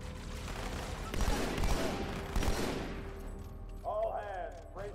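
Turret gunfire in the Halo 2 Anniversary video game: a sustained, dense stream of rapid shots lasting several seconds and fading out, followed by a brief whooshing game sound effect.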